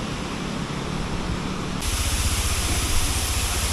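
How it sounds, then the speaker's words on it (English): Rushing water pours over rapids and a waterfall on a mountain ride, a steady, loud hiss that suddenly swells brighter and fuller partway through, with no voices. "Another waterfall."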